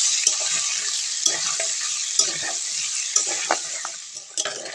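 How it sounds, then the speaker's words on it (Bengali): Potatoes with salt and turmeric fry in hot oil with a steady bright sizzle, and a spatula scrapes the pan in repeated knocks about once a second. "আলুটা এবার ভালো করে ভেজে নেব"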